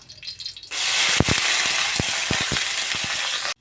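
Dried red chillies and garlic frying in oil in a pan, a sudden loud sizzle bursting in after a quieter start and holding steady with scattered pops and crackles, no voices.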